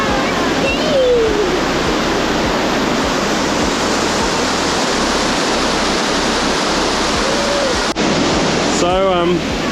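A waterfall in the Otways after heavy rain roars as a steady broadband rush of falling water, loud and close. Brief bird chirps and a voice cut in near the end.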